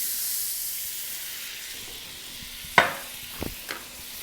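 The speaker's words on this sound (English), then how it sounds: "Deglaze the pan." A hot pan used to roast a lamb rack being deglazed with butter, giving a steady hiss and sizzle followed by a few distinct clanks of utensils against the pan.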